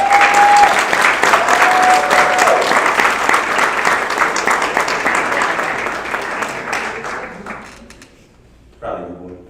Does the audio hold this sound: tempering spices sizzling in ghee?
no